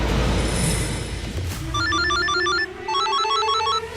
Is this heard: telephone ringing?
yes